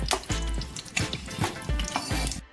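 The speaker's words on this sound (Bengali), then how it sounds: "তেজপাতা চারটে শুকনো লঙ্কা আর পাঁচ ফোড়ন দিয়ে একটু ভাজা ভাজা করে নিচ্ছি" Bay leaves, dried red chillies and panch phoron frying in hot oil, with a steady close crackling sizzle and a few soft stirring knocks, with no talking.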